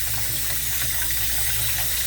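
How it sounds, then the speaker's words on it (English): Cold tap water runs steadily into a sink while hands are washed under it, a loud, continuous close-up gush with no pauses and no talking. "Let me wash my cold hands on cold water now."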